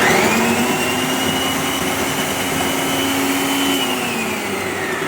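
A loud, steady electric motor whir with a high whine that shifts slightly in pitch, running continuously without pause.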